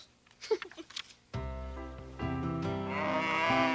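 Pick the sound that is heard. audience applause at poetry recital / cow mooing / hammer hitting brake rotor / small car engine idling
cow mooing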